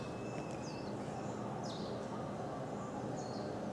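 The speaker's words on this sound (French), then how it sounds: "Il y a tous les animaux, les oiseaux qui piaillent, c'est un truc de fou." Faint bird chirps and short tweets in jungle at Ke'e Beach, Kauai, a few calls over steady broadband background noise.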